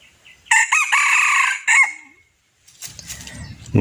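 A wild junglefowl rooster crows once, loud and close, a drawn-out cock-a-doodle call ending in a short rise. After a pause, softer clucking and rustling noises follow.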